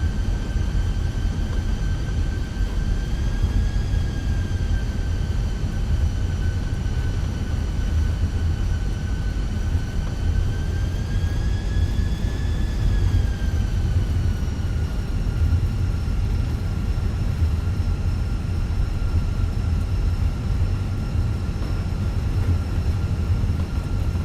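An Airbus A320 taxiing fast in the Fenix flight simulator, a steady roaring engine hum with a whining tone that rises and falls slightly as thrust changes, continuous and close with no talk.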